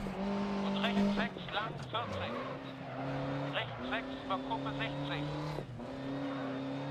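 A rear-wheel-drive rally car slides on loose ground in Dirt Rally, its engine revving with rising and falling pitch while tires scrabble and skid, loud and close, with someone talking over it.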